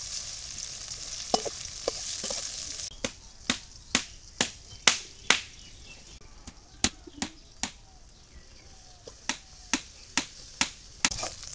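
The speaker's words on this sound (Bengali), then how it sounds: "কড়াইতে তেল দিয়ে দিছি, দিয়ে দিলাম পেঁয়াজ কুচি, আদা রসুন বাটা।" Chopped onion and ginger-garlic paste frying in oil in a wok: a soft sizzle broken by a series of sharp, close pops and spits at irregular intervals, with no speech.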